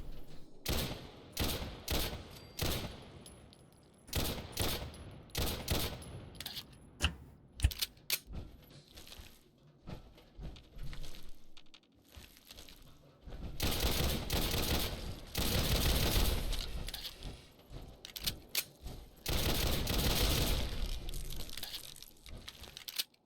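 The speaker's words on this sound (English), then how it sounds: "I don't think this pistol was ever supposed to be shooting explosive rounds, ever." Modded Fallout 4 gameplay with a pistol firing explosive rounds: bursts of sharp cracks and booming blasts in clusters, some rapid and crackling, with louder sustained explosive stretches in the second half, no talking.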